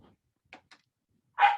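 A dog gives a couple of faint yips followed by one short, sharper bark nearby, heard over background quiet during an online roundtable.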